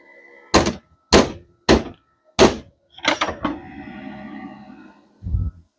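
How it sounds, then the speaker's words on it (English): A welder making odd noises in a home shop during skillet-making: a run of loud, sharp thunks in a quick uneven sequence, followed by a rougher buzzing burst and one last heavy knock. "Welder's making weird noises."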